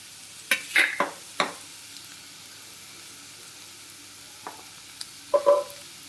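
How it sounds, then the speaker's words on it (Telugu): Raw banana masala curry cooks in a pan with a faint low sizzle, broken by a few distinct spatula scrapes and knocks, clustered near the start and again near the end, and no speech. "ఇదంతా బాగా ఫ్రై అయిందండి ఇప్పుడు మనం కారం వేసుకుందాం దీంట్లోకి"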